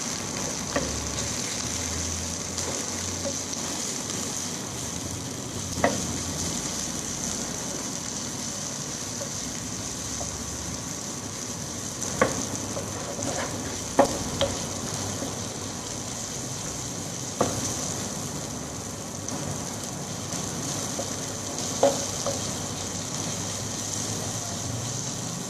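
Cabbage frying in a pan for a Mexican-style bean dish, a steady soft sizzle running throughout with occasional faint clicks and stirring knocks, close and moderately quiet with no talk.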